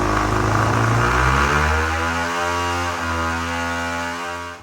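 A small engine, swapped into a Honda S600, revs hard and high to 10,500 RPM, holding a loud, buzzing pitch near the limit before easing slightly, close to the listener.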